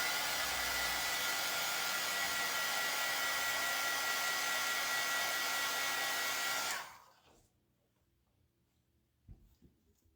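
A hair dryer roars loud and steady up close for about seven seconds, then cuts off abruptly, leaving quiet room tone with a few faint knocks.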